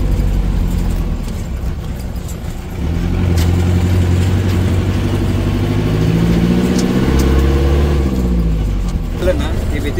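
A car engine running while the vehicle drives along a village hillside road, a steady mid-pitched hum that swells and shifts as the revs change, close, with people talking over it.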